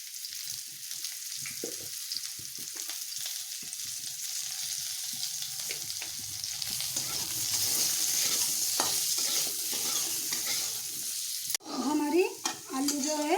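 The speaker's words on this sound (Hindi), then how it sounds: "ये आलू को भी गैस से फ्राई करेंगे" Potatoes fry in a kadhai with a pinch of salt and turmeric, a steady close sizzle under occasional stirring and scraping that swells midway, with clattering pan sounds near the end and no talk.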